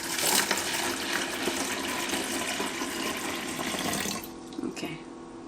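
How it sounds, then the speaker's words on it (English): Water pours from a container into a cucumber mixture in a Ninja Foodi blender, a steady splashing fill that stops abruptly, followed by a few clinks and faint handling sounds. "We're going to add our water."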